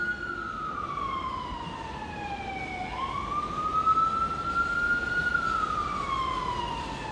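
An ambulance siren passes along the street, its wail falling, then rising and holding high before dipping again, steady and fairly close over low traffic rumble.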